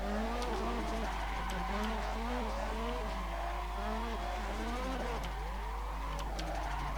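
A car drifts along a mountain road in the racing game Assetto Corsa, its engine revving and wavering loudly and continuously while the tires squeal and skid beneath it.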